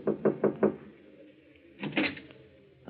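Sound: knocking on a door marked manager

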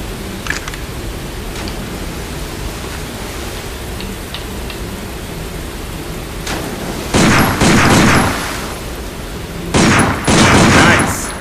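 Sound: handgun shots at a sign in video game Binary Domain

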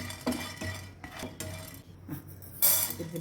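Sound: dal being roasted and stirred in a pan on low flame

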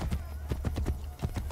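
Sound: horse hooves trotting in video game Assassin's Creed Brotherhood

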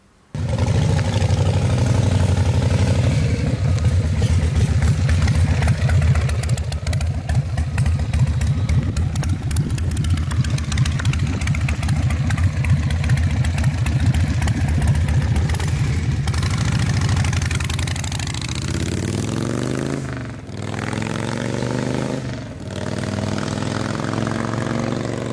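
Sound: 1997 Harley-Davidson Sportster XL1200 motorcycle engine idling

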